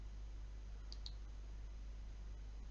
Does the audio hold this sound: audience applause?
no